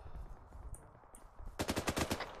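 Rapid bursts of automatic gunfire in a military video game crack out in a dense run of evenly spaced shots near the end, following a quieter stretch of distant, scattered pops and low rumble.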